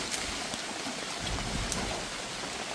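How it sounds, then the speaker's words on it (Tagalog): Heavy rain falling in a forest during outdoor cooking, a steady dense hiss of drops on surfaces, close and continuous, with a few sharper splashes. "Ayan na, umulan na nga."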